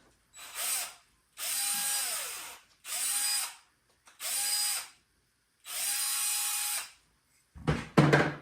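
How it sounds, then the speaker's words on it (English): A power drill whirs in five short bursts, pre-drilling small holes in the backs of wooden hubs for a 1:6 scale model, separated by brief pauses, each with a rising motor pitch, followed by a quick clatter. "Pre-drill the holes in the back of these."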